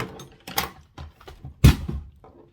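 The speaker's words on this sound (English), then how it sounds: "That fell, and it fell really hard." A couple of sharp knocks, then one loud, heavy thud as a NYX Matte Finish makeup spray bottle hits a hard floor close by, with quieter handling noises around it.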